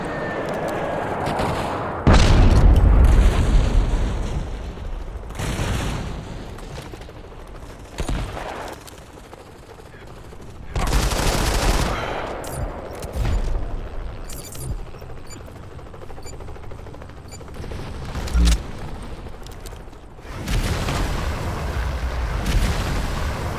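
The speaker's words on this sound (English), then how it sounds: "Airstrike incoming." Airstrike explosions and heavy gunfire in the mobile shooter Modern Combat 5, with loud booming blasts and bursts of firing that come repeatedly and close, over a continuous roar of battle.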